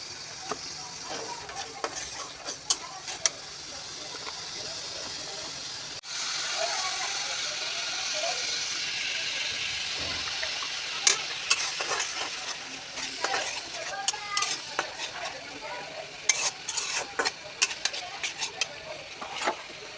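Meat for jhura mangsho, spiced with chili powder, is fried and stirred in a pan, a steady hissing sizzle broken by frequent sharp utensil scrapes and clicks, with a voice talking at times.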